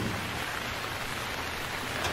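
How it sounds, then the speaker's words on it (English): Steady, even hiss of rain falling in the survival game Stranded Deep, a dense broadband wash that stays constant throughout with no voices. "I'll just sit in the cabin until rain decides to taper off."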